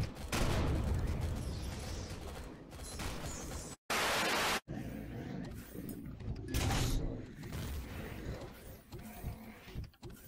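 Bursts of enemy gunfire ring out in the sci-fi survival game Empyrion: Galactic Survival. The shots come as loud, dense volleys mixed with mechanical clanks and one abrupt static-like burst, with a player's voice talking over parts of it.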